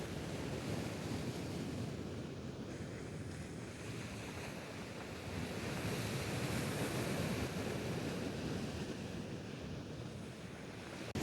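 Sea waves wash steadily against the Tece embankment in Mersin, a continuous broad surf roar mixed with wind buffeting the microphone, fairly quiet and unbroken.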